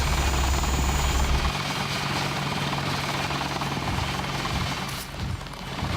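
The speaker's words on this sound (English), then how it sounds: "I'm gonna let the helicopter clear before I try to talk to people." Helicopter in the Deus Ex video game thrums steadily with a loud rotor wash, its engine noise fading slightly as it moves away.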